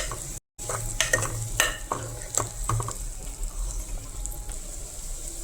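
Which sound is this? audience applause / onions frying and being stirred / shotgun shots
onions frying and being stirred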